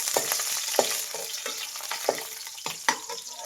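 Raisins and other dry fruits fry in ghee over a medium flame for temple-style sweet pongal, a steady close sizzle with light stirring clicks and scrapes, no talk.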